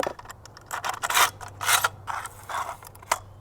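A coil of sheathing nails being loaded into a nail gun for cabin wall sheathing, giving a series of close mechanical clicks, ratcheting snaps and rattles.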